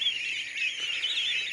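Peking ducks in a breeding pen give a continuous, high-pitched peeping chorus, close and fairly steady over a second and a half, with no talking.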